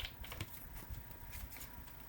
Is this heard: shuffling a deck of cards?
yes